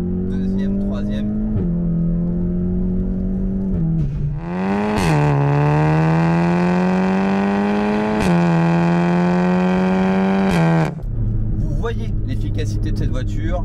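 VW Golf 7 GTI TCR Edition with stage 2 tuning accelerating hard through the gears: a loud, close engine note rises steadily, drops briefly at each upshift, then climbs again, with talk before and after the pull.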